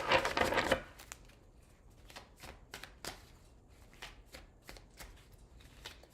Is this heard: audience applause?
no